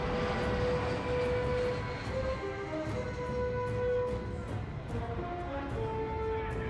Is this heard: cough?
no